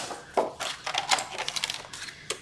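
Card stock scored along all four sides at 1.5 for a hinged window box, heard as a run of short, close, scratchy strokes in quick succession.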